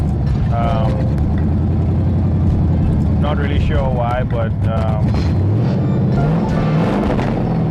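A car engine with a newly installed carburetor and no exhaust runs loud and rough with the gas held down, a steady low roar with swells, while a person talks over it.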